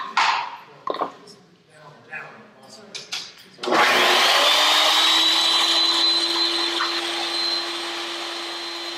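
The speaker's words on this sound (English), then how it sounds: "Let me cut one more piece." A power saw cutting a piece of wood for drawer making spins up after a few knocks and handling sounds, then runs as a loud, steady whine that holds for several seconds and slowly eases.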